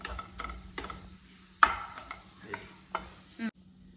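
Chicken mixed with a few spoons of milk being stirred in a pan, heard as quiet scattered scrapes and sharp spoon clicks at uneven intervals, close and soft, with no talking.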